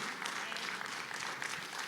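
A congregation at a Spanish-language church service applauds, sustained crowd clapping that stays dense and even throughout, with faint voices beneath.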